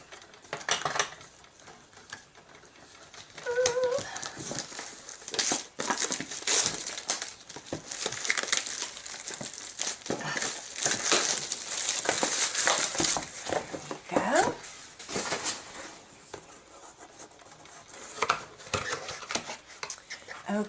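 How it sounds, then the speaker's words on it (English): Paper packaging cut open with small paper snips, busy crinkling and rustling mixed with sharp clicks and snips throughout, loud and close, with brief bits of speech. "So I've got my little paper snips to get this packaging off."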